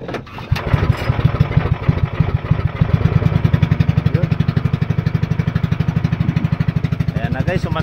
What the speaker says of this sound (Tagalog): sumandar na rin ang ating makina